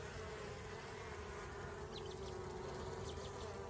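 Honeybees buzzing steadily around an open hive during the first inspection of the year, a continuous close, even hum with a few louder passes near the listener, no talk.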